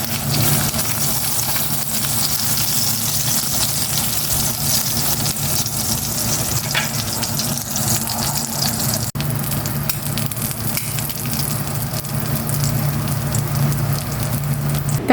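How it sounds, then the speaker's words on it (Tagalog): A hotdog boils in a pot of water before being fried, making a loud, steady bubbling hiss that holds evenly from start to finish. "Ilaga ko muna itong hotdog bago ko iprito."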